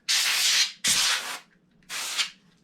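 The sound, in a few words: spraying air on laptop fans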